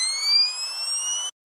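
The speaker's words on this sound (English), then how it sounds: "it's a little camera sound that helps transition into the build-up." A camera sound effect in an electronic music track, heard as a bright, slightly rising electronic whine that holds steadily for just over a second, then cuts off abruptly.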